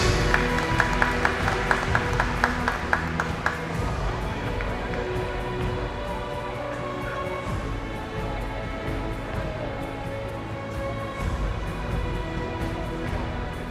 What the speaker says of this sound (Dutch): Applaus voor Fijnke Holtrop, vijfde plaats.